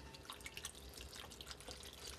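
Beef broth poured from a carton into a pot in a home kitchen, a faint, continuous trickling and splashing of liquid with small drips, quiet and steady throughout with no talking.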